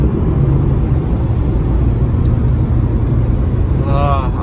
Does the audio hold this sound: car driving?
yes